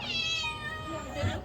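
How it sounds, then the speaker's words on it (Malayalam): A single drawn-out cat meow, close and clear, rising then trailing off, followed by a faint second mew at the end. "ഇവിടുത്തെ പൂച്ച"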